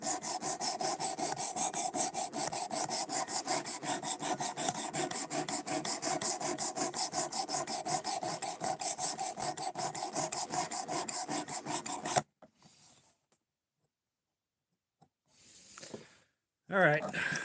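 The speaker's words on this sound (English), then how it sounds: "we're sharpening this thing up because the edge was garbage" A knife blade is sharpened on a 400 grit stone in steady, rhythmic rasping strokes for about twelve seconds, then the scraping stops and brief voices break the quiet.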